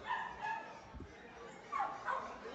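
A Teddy toy poodle at a dog market gives a few faint yips and whimpering barks, spaced out, with people talking nearby.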